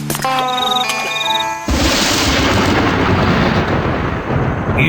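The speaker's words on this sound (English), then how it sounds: "Looks like we're in for quite a storm this evening." Thunderstorm in the Mystery Case Files: 13th Skull hidden-object game: after a short musical sting, a loud, dense roll of thunder and storm noise rumbles on steadily close by, with no talk.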